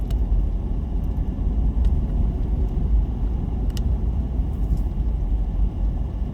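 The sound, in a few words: car nicknamed Super Crusher driving on scenic mountain road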